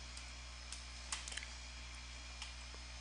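Light typing on a computer keyboard while setting up C++ tools, a few soft scattered key clicks over steady background hiss, quiet and close, with no speech.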